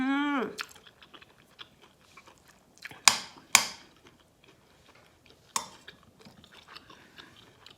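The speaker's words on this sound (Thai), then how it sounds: "กล๋นไก่เน้นๆค่ะ ชอบมากเลยค่ะกล๋นไก่ เวลาเคี้ยวก็จะ กรุบกรุบดีนะคะ" Chewing crunchy stir-fried chicken gizzards in spicy holy basil stir-fry, close up: a brief voice at the start, then a few sharp, loud crunches separated by quieter moist chewing and small clicks.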